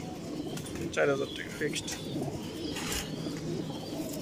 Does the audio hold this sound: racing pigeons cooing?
yes